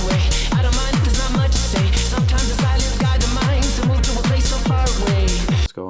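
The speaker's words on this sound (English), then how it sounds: "acidy or like aggressive sounding arp" A loud, driving acidy synth arpeggio from a classic virtual-analog patch repeats in fast pulses over heavy bass hits, dense and gritty, playing continuously before cutting off at the end.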